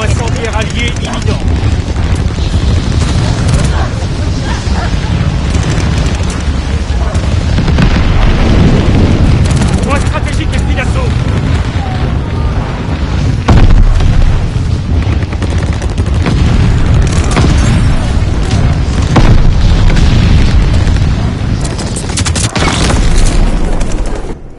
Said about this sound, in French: Les alliés ont demandé un barrage de mortier.